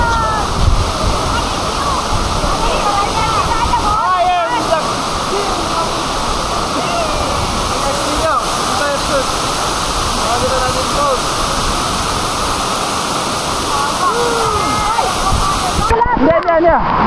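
Tinago Falls in Iligan City roars as a loud, dense, continuous rush of falling water, with a voice talking faintly beneath the steady wash.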